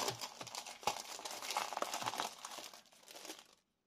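Paper sheets and small cards are shuffled and crinkled close by in a quiet room, a continuous soft rustle that stops abruptly near the end, with no talking.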